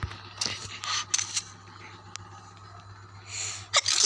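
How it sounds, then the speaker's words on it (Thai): A person sneezes sharply several times during a zombie-mode game session, with short, loud, breathy bursts spread across the clip over faint background game sounds. "โอ้ยจามไม่อยู่เลย"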